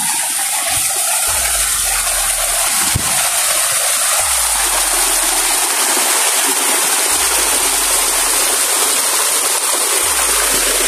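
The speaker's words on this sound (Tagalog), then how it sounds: "pupuntahan natin mga idol yung Nanishay Falls sa ibabaw" Nanishay Falls pours in a loud, steady rush of falling water and flowing stream, a dense unbroken roar close by with occasional low thumps underneath.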